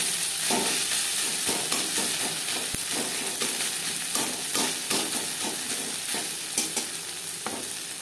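Spices frying and being stirred in a pan for a Bengali fish curry, with a little fish oil going in; a steady close sizzle runs throughout, broken by repeated scraping stir strokes.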